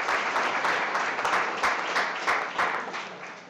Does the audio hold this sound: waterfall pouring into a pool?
no